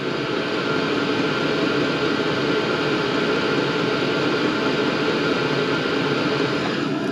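A Vevor diesel all-in-one heater runs in a shop with its exhaust outside, giving a steady, loud broadband whir and roar, close by and unbroken, with no talk.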